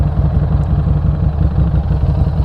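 A 2021 Harley-Davidson Street 500 motorcycle with a Firebrand muffler rumbles steadily up close, its deep, loud engine note holding even throughout with no talk.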